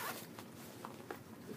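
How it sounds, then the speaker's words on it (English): A zipper on a black handbag is pulled in one quick, close rasp, soft and dry, over a faint background hiss. "There's a zipper right here. It goes down here."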